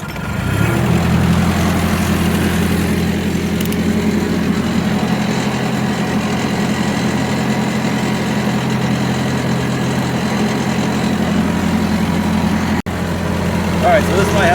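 A Hobart M5 generating unit powered by a Hercules flathead engine runs steadily at a loud, close idle-like drone throughout, with a brief dip near the end and no talking over it.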